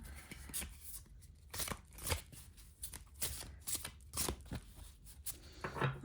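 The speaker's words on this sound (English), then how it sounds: "If you shuffle overhead, no problems there." Crisp riffling of tarot cards being shuffled overhead by hand, close by, in quick bursts with short gaps.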